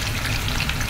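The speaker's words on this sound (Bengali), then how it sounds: "তেল গরম হয়ে গেলে দিয়ে দিব পেঁয়াজ।" Onions frying in hot oil make a loud, dense, continuous sizzle and crackle, close up and with no voices over it.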